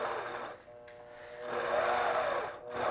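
A longarm quilting machine stitches along rulers with a steady mechanical whir, its motor pitch rising and falling as the stitching speeds up and slows, close and alone.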